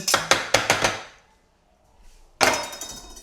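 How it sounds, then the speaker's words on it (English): Sharp repeated clacking strikes as garlic is crushed in a garlic crusher, five quick metallic knocks close by, a pause of near silence, then a louder scraping crunch. "Okay, so the garlic. Straight in the crusher."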